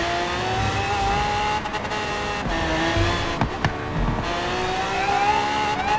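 A McLaren racing in Forza Horizon 3, its engine droning steadily and loudly with rising and falling pitch as it accelerates and shifts, occasional tire squeal breaking through, no speech.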